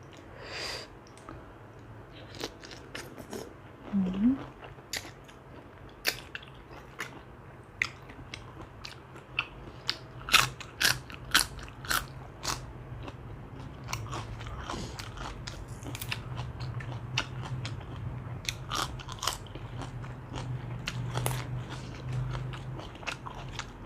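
Someone eats spicy fresh-shrimp papaya-style noodle salad with fermented fish sauce, giving repeated crisp, sharp crunches and wet chewing at an uneven pace over about twenty seconds, close up and without talk.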